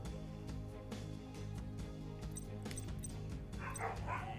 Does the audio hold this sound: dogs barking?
yes